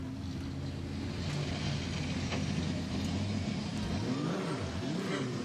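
A production sedan race car engine at a speedway, a steady loud droning motor with rising and falling revs throughout, fairly close, with no talk over it.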